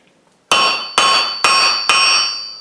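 Four evenly spaced hammer blows strike chain stock on an anvil during forge welding, each a sharp, loud, ringing metallic clang that decays before the next.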